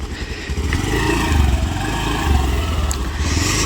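A Pulsar motorcycle is moved close by on a muddy hill road near Paderu, its engine chugging in a low, steady, lumpy rhythm with light clatter and no talking.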